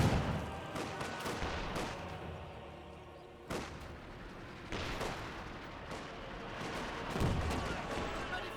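Gunfire and mortar blasts in a Company of Heroes 2 battle: sharp, booming impacts recurring every second or two over a rumbling backdrop of distant fire, with commentary talking over them.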